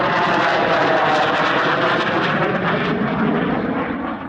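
An F-35 fighter jet makes a weapons bay pass at an airshow in Australia, its loud, broad jet roar holding steady and strong across the whole span, then easing slightly toward the end.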